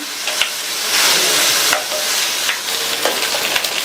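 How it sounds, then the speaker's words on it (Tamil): Brinjal (eggplant) pieces sizzle and crackle in hot oil over high flame with a steady hiss, punctuated by occasional stirring scrapes, close and alone. "ஹை ஃப்ளேமில் வச்சு எண்ணெயிலேயே நல்லா ஒரு 2 நிமிஷத்துக்கு இந்த காயை வதக்கி விட்டுக்கோங்க."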